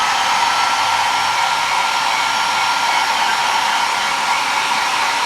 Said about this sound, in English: then I go in and blow dry it because it kind of sets it in